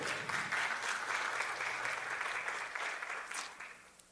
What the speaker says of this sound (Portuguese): Uma salva de palmas, minha amiga Larissa.